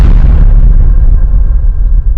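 A bomb explosion in a public place, a loud close deep boom with a rumbling tail fading over two seconds.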